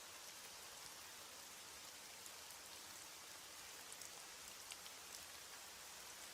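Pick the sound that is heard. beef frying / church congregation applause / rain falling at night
rain falling at night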